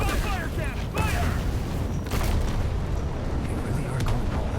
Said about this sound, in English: Fire cannon! Use the fire cannon! Fire!